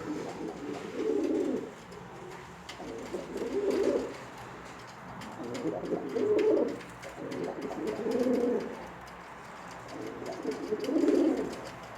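A pigeon coos close by in repeated low, rolling phrases, about five of them at regular intervals over a quiet background hum.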